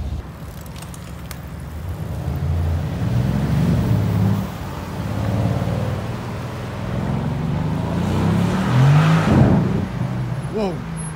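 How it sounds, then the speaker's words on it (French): A Mercedes-AMG C63 S turbo car accelerating outdoors, a rising engine roar that swells and builds toward the end, with voices talking over it and wind noise. "C63S. Oh là là. Turbo, ce qui va faire une petite accélération."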